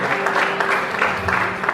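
Brief burst of congregation applause during a church sermon, fairly loud and uneven clapping with a faint lingering tone beneath it.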